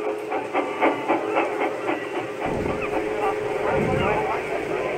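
A steam train, the Flying Kipper, rumbles along with rhythmic clickety-clack of wheels over rail joints and a hiss of steam, steady and fairly close.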